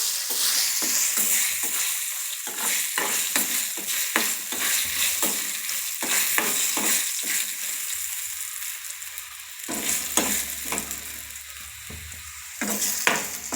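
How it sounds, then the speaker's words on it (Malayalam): Dried red chillies fry in hot oil for a curry, giving a steady bright sizzle broken by repeated sharp scraping stirs of a utensil in the pan, with a quieter stretch near the end. "ഉണക്കമുളക് ഇട്ട് തീ ഇത്തിരി കുറയ്ക്കണം."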